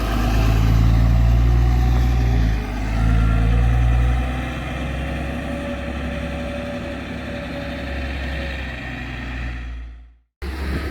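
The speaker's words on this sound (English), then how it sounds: "Fortunately, I also managed to get a nice view of this bus departing." A MAN 16.220 Designline coach bus pulls away from a roadside stop, its diesel engine rumbling loud and close, then steadily fading and settling before a brief cut near the end.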